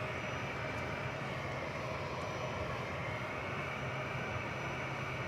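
Airbus A300 jet arriving at Dallas Fort Worth airport, a steady distant engine roar and rumble holding level without a break, no talking.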